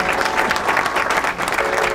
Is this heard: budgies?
no